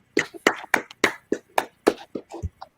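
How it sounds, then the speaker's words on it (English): A few people clapping at a scripture class, with sharp separate claps in an uneven rhythm, close and fairly loud, and some low voices mixed in between the claps. "Clap it up"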